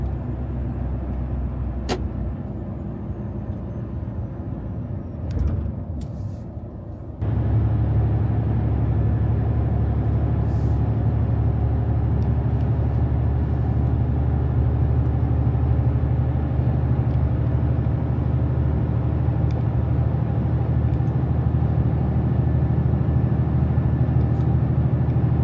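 Car driving on a test track in traffic, with a steady loud engine and road rumble throughout, rising to a fuller, heavier drone after a brief shift early on.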